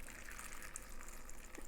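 Marinade pours steadily into a bag of mushrooms, making a soft, continuous liquid gush that is close and quiet, with no talk.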